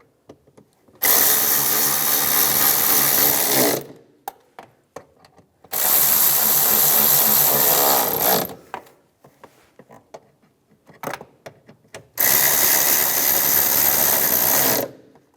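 Power tool driving intake manifold bolts on a 2004-2010 BMW X3, three loud sustained bursts of about three seconds each separated by brief pauses with faint clinks.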